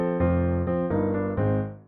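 A sampled piano set to a soft tone plays a few gentle, mellow chords, each struck and left ringing into the next, close and clear with no voices.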